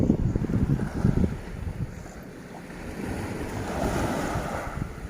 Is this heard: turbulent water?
yes